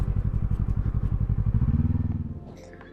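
A motorcycle climbs a steep beach track at Talacre Beach, North Wales, its engine throbbing in rapid regular pulses up close and loud, then the revs settle and fade as the bike eases off near the end.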